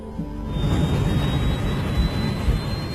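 A jet airliner roars down the runway on takeoff, a dense, loud, steady rumble with a continuous high whine on top, no voices.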